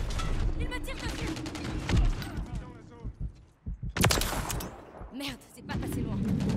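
Gunfire in the shooter game Call of Duty MW3: bursts of shots and thuds mixed with a voice talking throughout, with a sharp burst near the middle and steady firing toward the end.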